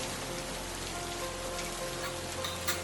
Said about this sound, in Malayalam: പുറത്താണെങ്കിൽ നല്ല മഴ പെയ്യുവാണ്